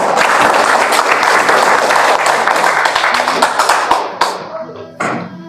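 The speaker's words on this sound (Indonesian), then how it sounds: "kita beri aplaus dulu untuk semuanya" Audience applause at a Indonesian political organisation's regional board inauguration Q&A session, loud dense clapping that thins out toward the end, with a few last isolated claps.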